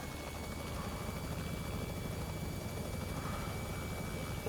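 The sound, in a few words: Robinson R66 helicopter in video game X-Plane 11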